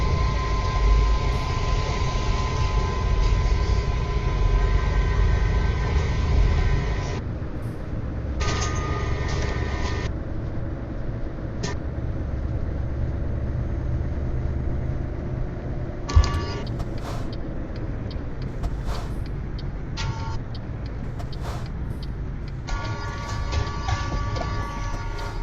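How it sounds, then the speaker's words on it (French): Steady low drone of a Scania V8 eight-cylinder truck engine in Euro Truck Simulator 2, continuous and moderately loud, with small shifts in pitch and occasional clicks and hisses over it. "c'est un V8 aussi, il a 8 cylindres, donc c'est un moteur qui est puissant"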